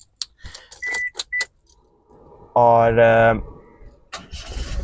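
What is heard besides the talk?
Toyota Passo car engine starting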